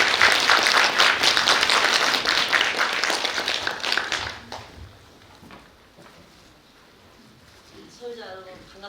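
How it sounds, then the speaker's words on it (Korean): Loud audience applause at a residents' briefing on a station-area redevelopment project, strong for about four seconds and then fading out, with faint talk following in a quieter room. "우리 소유자 여러분께서는 큰 박수로 맞이해주시기 바랍니다."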